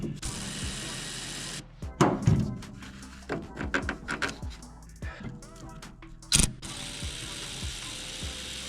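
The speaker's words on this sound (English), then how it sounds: "Let's go ahead and use the auto wrench and see if we can get these off." Impact wrench bursts buzzing against bolts on a Toyota Supra drive axle job, several short rattling runs with clanks of tools between them, close by in a garage.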